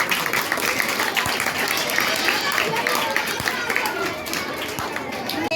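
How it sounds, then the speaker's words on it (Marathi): A crowd of school pupils claps loudly and continuously for quiz prize winners at a Constitution Day event, a dense roar of applause with crowd noise mixed in and no pause. "जोरात टाळ्या वाजवायच्या."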